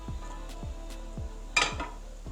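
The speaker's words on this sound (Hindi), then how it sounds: "अब हम जो हमने अंडा बनाया था वो भी हम इसमें मिक्स कर रहे हैं" A spatula folds fried egg into chicken fried rice in a pan, with steady scraping strokes about every half second and one brief louder clatter of metal near the middle, close and without talk.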